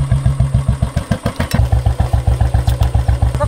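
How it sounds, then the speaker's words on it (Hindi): A Royal Enfield Bullet style motorcycle engine kicks into life and settles into a loud, steady thumping idle with evenly spaced beats close by, with no talk over it. "तो गाइस इंजन स्टार्ट हो गया है,"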